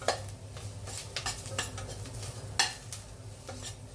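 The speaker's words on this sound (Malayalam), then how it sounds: "അതൊന്ന് ഇളക്കിയതിന് ശേഷം, ഇളക്കി കൊടുത്തതിന് ശേഷം" Mutton kurma with turmeric powder being stirred in a pan, giving steady scraping and clinking strokes of a spoon against metal over a soft sizzle, with a sharper knock near the end.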